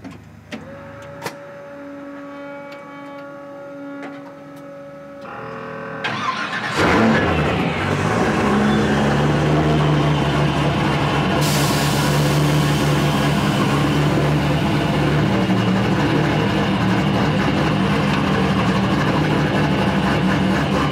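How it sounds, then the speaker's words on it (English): LS3 V8 in a Scion FRS with 8-1 headers cranking over after some clicks and whirring, then catching into a loud, raw, rumbling idle that holds steady and close. "can you start it so we can at least hear what it's like? I can start it."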